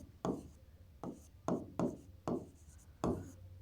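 Chalk or marker writing on a board during a maths lesson, six separate short scratchy strokes at a steady pace, close and fairly quiet with no talk.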